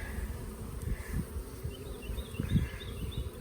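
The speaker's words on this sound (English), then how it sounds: "The bees are very calm today." Honeybees buzzing around an opened beehive during a hive split, a faint steady drone with soft handling bumps, no voices.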